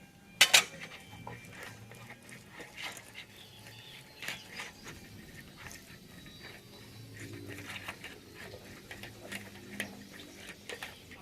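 Cauliflower pieces are mixed into a spice paste in a bowl: soft wet squelching broken by scattered clicks and knocks against the bowl, with one sharp clatter near the start.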